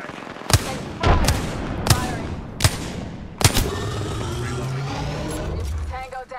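Heavy gunshots in the shooter game Apex Legends, five loud separate blasts at uneven intervals over a noisy battlefield bed, with game voice lines speaking in between.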